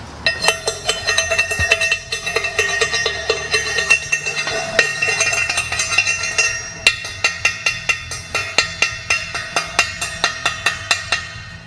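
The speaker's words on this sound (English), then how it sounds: "as we chip the slag here and show you" A chipping hammer knocks slag off a 6G stick weld made with 7018 and 6010 rods. The strikes are ringing metallic taps, irregular at first and then settling into a fast, steady rhythm, close and fairly loud.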